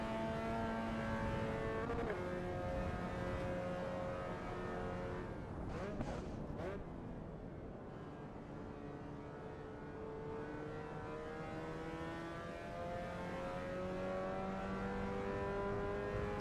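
A race car engine drones in the racing sim Assetto Corsa EVO, a steady harmonic whine rising and falling with gear changes, slowing through a dip before climbing again, loud and close with a person talking faintly.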